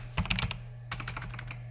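Close keyboard typing on a computer: two quick bursts of key clicks, a cluster of about five taps followed by a longer run of rapid keystrokes, over a steady low hum.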